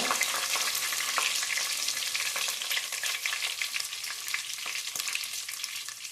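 Cumin seeds and cloves frying in hot oil for tomato bath, a steady, loud, close sizzle with faint stirring scrapes throughout.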